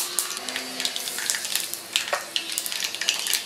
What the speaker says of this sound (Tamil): கடுகு நல்லா காஞ்சிட்டுருக்கு. கடுகு பொரிஞ்சு வந்ததுக்கப்புறம் நம்ம வந்து பெருங்காயம் லைட்டாக போட்டுக்கலாம்.